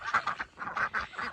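Ducks on a homestead during a heavy snowstorm give a run of repeated, nasal quacks in quick bursts, fairly close and clear, with no talking.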